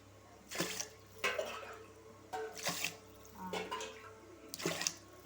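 Water pours into a pot of rice in several separate bursts with short pauses between them, close by and fairly quiet.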